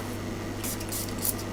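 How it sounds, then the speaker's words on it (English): Alcohol is sprayed onto a circuit board during an amplifier repair, with three short hissing bursts over a steady background hum, close by and without speech. "Alcohol spray."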